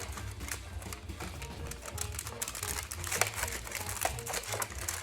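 Aluminium foil crinkles and rattles close by as it is handled over a baking sheet, with a steady low hum underneath.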